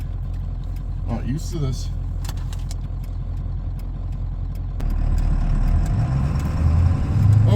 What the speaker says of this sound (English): Oh, there's a lot of traffic for a Sunday out here.